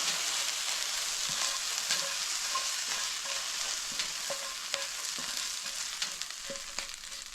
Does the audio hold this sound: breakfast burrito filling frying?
yes